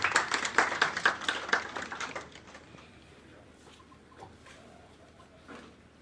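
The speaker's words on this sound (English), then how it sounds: "A big round of applause for Mr. Abusiadima." Scattered audience applause at a WWE champion media appearance, a brief burst of clapping that fades after about two seconds, leaving quiet room noise and a few faint sounds.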